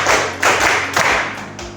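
Group hand clapping in a sixth-grade classroom counting game, a few loud claps in an uneven rhythm, close and dense, with no talking.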